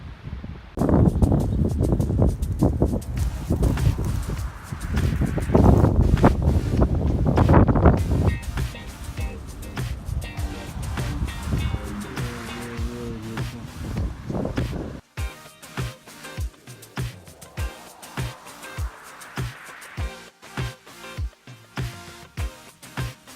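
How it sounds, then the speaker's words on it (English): Strong gusts of wind buffet the microphone in a park with a deep, roaring rumble and rustling that ease off partway through. A rhythmic tapping pattern follows near the end. "I gotta get a shot of how the wind just moves everything here."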